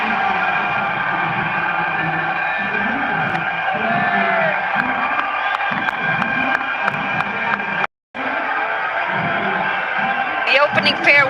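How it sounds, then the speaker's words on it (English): Continuous crowd noise fills a cricket stadium at a Nepal Premier League match as players walk out, a dense steady roar under commentary with one brief dropout near the end. "Just hear the crowd roar."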